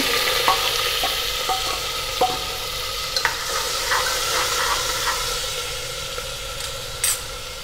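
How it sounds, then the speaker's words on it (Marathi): Onion and green chillies sizzling in hot oil in a pan for a mutton dish, a steady crackling fry punctuated by repeated clinks and scrapes of a stirring spoon. "हा बघा कांदा आणि मिरची टाकून घेते मटणासाठी"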